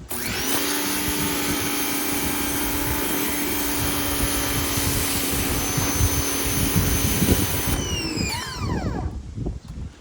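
Cheap $89 pressure washer running, a loud steady motor whine with broadband spray hiss that holds for about eight seconds, then spins down in falling pitch and cuts off, with no voices.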